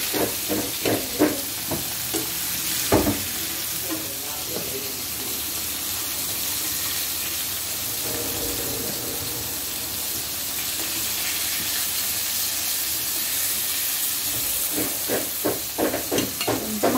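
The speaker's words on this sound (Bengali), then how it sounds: "এখন আবার এগুলো ভেজে নিচ্ছি" Hilsa fish fry in hot oil in a pan, a continuous loud sizzle and hiss throughout, broken by a few short clatters and scrapes near the start and end.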